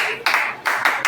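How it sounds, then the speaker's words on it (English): A class of students claps for themselves in three short bursts of hand claps, close and fairly loud, in a quick rhythm. "Clap for yourself for that, please."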